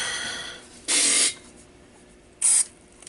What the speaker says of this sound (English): I'm just spraying into the pots.